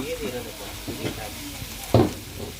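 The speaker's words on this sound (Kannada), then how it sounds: "ಫಿಶ್ಗಳೆಲ್ಲ ಬೇಯ್ತಾ ಇದೆ ತವಾನಲ್ಲಿ." Fish tava-frying on a hot griddle for a big shared meal, a steady soft sizzle with occasional stirring scrapes and one sharper clatter near the end.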